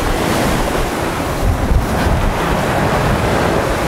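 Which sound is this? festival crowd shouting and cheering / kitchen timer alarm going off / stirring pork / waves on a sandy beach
waves on a sandy beach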